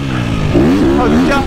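A KTM semi-factory race motorcycle engine runs on a racing circuit, droning loud and close with a rising pitch while someone talks over it.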